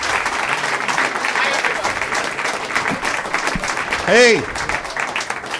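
Steady applause rolls through a comedy club crowd as a comedian is brought onstage, dense and sustained, with a brief shouted greeting and a whoop rising near the end.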